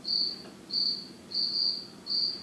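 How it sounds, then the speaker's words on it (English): Crickets chirp in four short, regular high-pitched trills, clear and fairly close against a quiet background. "so it's like crickets"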